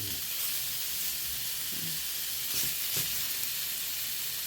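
Potatoes and rolled pork belly fry in hot oil with a steady, close sizzle and hiss, punctuated by a few soft stirring knocks.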